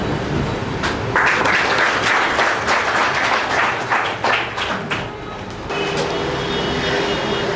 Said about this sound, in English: felicitate sir with a round of applause